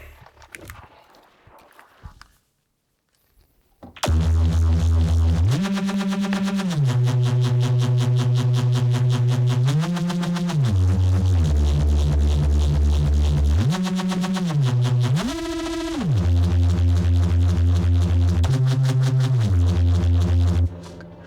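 Heavy Reese bass from a Serum preset: thick, detuned sustained bass notes that shift pitch in steps, loud and continuous after a quiet few seconds at the start, with no drums.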